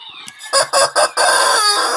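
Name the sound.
rooster crowing sound effect for the chicken alert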